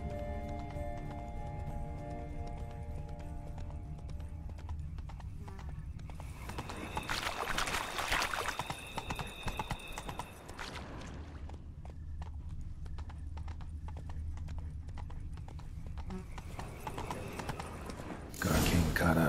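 Horse hooves clip-clop at a gallop in The Witcher 3 video game, with a steady, close rhythm running under game music and spoken dialogue, plus a louder whooshing burst midway.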